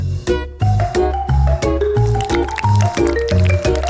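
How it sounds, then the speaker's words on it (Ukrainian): A filled bottle, its neck held shut by a palm, is shaken to mix the contents, producing rhythmic, loud sloshing and squelching liquid pulses about twice a second that continue throughout with no talking. "Тепер треба затиснути горловину долонею і гарненько все перемішати."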